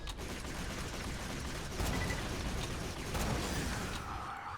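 Rapid gunfire from a player's gun in Borderlands 2, a steady dense barrage of shots with explosive booms swelling near the middle and again toward the end, loud and continuous with no talk over it.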